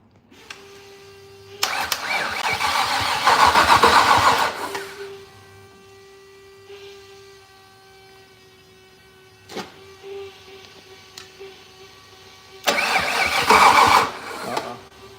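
A Datsun car's engine cranks in two loud bursts of a few seconds each, separated by a quieter stretch with a steady electrical whine and clicks, failing to catch after sitting unstarted for three years.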